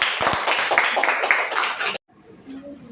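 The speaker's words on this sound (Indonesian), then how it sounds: "Bagus sekali, tepuk tangannya." Students clapping in a classroom, a burst of brisk, dense applause for about two seconds that stops abruptly, followed by quiet room tone and a faint voice.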